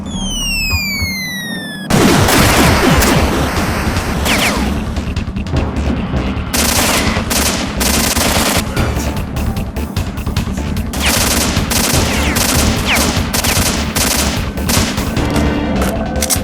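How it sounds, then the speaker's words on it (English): A 40mm grenade launcher in a video game opens up after a short lead-in, unleashing a loud, dense barrage of rapid booming shots that continues without a break to the end. "Say hello to my 40mm grenade launcher"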